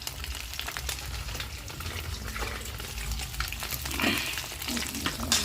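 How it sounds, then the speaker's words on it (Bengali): Boiled eggs fry in a pan for an egg curry, a steady, fairly quiet sizzle with occasional stirring scrapes and light clinks, no talking. "ডিম সেদ্ধ হয়ে ভাজা হয়ে গেল"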